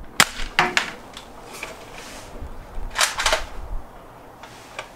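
Guns fire outdoors in a few sharp, loud cracks, some single and one tight burst near the end, separated by quieter pauses with no speech.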